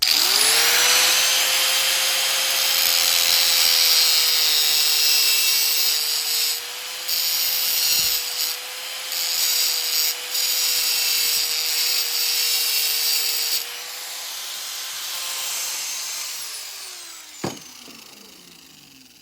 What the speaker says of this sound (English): Now you notice I'm using a Harbor Freight crappy cutoff wheel.